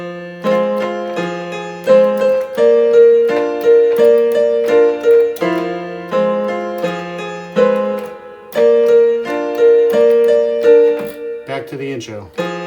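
Solo piano plays a song from the Donnie Darko soundtrack, with a slow repeating chord pattern and a simple melody on top. It is clear and close, with a brief muffled bump at the end.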